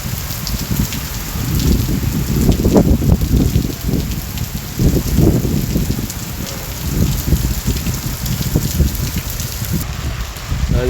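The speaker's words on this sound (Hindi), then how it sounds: "बारिश बहुत तेज़ है जी।" Heavy rain pours steadily on a village, a dense wash of noise with surging gusts, close and loud throughout with no voices.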